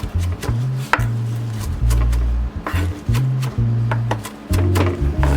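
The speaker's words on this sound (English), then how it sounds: "So this one will do a little bit of chop." Knife chopping garden vegetables on a board for a fresh tomato salad, a steady run of close, loud, thudding chops in quick bursts with short pauses between them.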